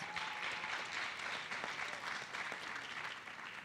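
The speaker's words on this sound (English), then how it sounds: "let's give them a big round of applause" Students and guests at a middle school pitch night give a round of applause, a steady, even wash of clapping heard alone at moderate distance.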